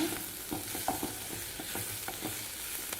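Small onions sauté in a pan for a tempering, a constant light sizzle broken by rhythmic scrapes and taps of a spatula stirring them, close and moderately quiet with no voices.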